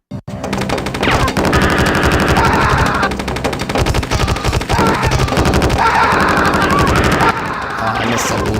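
Rapid, loud automatic gunfire with armor-piercing bullets in the Sega Saturn game Corpse Killer: Graveyard Edition, a dense continuous burst filling several seconds with brief dips, no talk.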